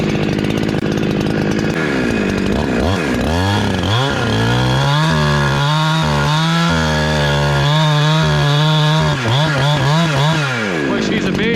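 Big-bore Husqvarna 372XP chainsaw bucking firewood, the engine revving up loud and close and holding a steady high whine through each cut with brief dips in pitch, then falling back to idle at the end.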